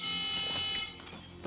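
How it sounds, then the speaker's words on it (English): A loud, shrill alarm is tripped during a heist in the Call of Duty Black Ops 6 video game, blaring steadily and then dropping in level as other game sounds rise beneath it. "I've tripped the alarm."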